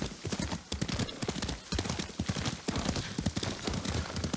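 Horse hooves clip-clopping at a brisk gallop in the samurai video game Ghost of Tsushima, a steady near rhythm of beats running throughout with no talk over it.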